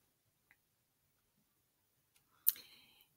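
A computer mouse clicks once, faint but crisp and close, after a near-silent stretch broken only by a couple of tiny ticks.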